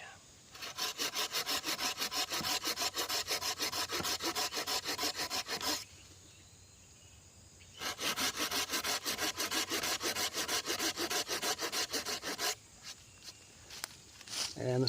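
Steady back-and-forth strokes of a hand saw cut into wood for a camp chair, in two long rhythmic runs split by a short pause, then a few shorter strokes, loud and close.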